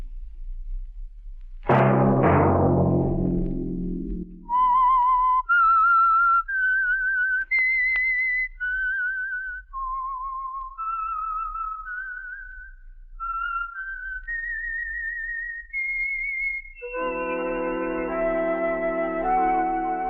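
A lone whistled melody of clear sustained notes, stepping up and down slowly after a brief opening sound, ending as other tones come in.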